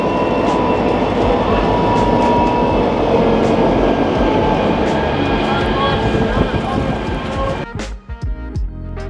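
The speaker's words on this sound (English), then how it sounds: "Got the train passing up here" A train rolls past with a loud, steady rumble and rattle that continues for several seconds before dropping away, near a highway route out of Skagway.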